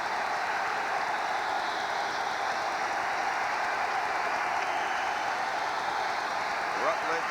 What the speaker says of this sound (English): the crowd starts to chant defense